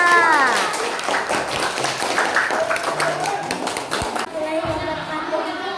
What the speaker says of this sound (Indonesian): Tepuk tangan buat Rara